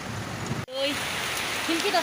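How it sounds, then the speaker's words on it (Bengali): Steady rain hiss fills the background, with a brief dropout and faint scattered chirps over the patter. "তারপরে কত সুন্দর বৃষ্টি"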